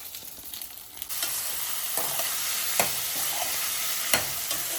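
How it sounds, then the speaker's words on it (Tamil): Small tomatoes cut into pieces sauté in a pan for a homestyle chutney, a steady close sizzle with a few sharp spoon scrapes and stirs rising over it, no voices. "தக்காளி நல்லா வதங்கட்டும்"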